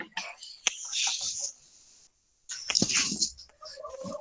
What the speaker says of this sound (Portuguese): Vou prender meus cachorros aqui, senão eles não vão parar de latir